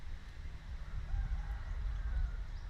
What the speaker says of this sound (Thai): มีไก่ป่าด้วยนะครับ